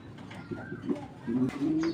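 A pair of grizzle pigeons in a cage coo in soft, throaty bursts, close by, with rustling and faint background voices.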